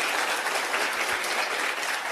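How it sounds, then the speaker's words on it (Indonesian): An audience at a seminar bursts into dense, steady clapping, loud and continuous for a couple of seconds. "Tepuk tangan dulu buat Anda deh"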